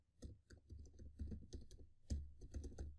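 Fast, faint clicking of a computer keyboard as code is typed, with irregular bursts of keystrokes and no voice over them.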